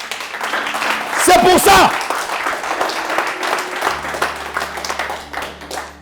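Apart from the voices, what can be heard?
church congregation applauding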